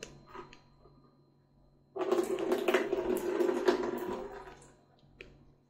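Water poured out of a container filled with glass balls, a close, gushing splash lasting about two and a half seconds before fading to quiet.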